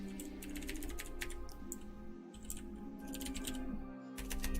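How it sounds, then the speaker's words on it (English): Fingers type on a computer keyboard in quick, uneven bursts of close clicking keystrokes, with a couple of short pauses, over a low steady hum. "Again with the bad typing."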